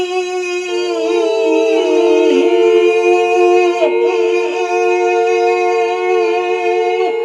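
Several voices hold one long, steady sung vowel "E" together, a sustained drone that stays even and loud throughout.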